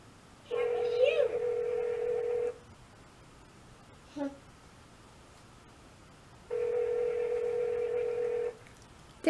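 Two sustained electronic phone tones, each about two seconds long, separated by a pause in which a brief voice sounds; fairly quiet and near.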